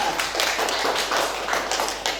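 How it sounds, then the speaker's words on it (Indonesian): Students in a classroom clap for a classmate who answered correctly, a close, brisk run of irregular hand claps continuing without pause and without talk. "Tepuk tangan."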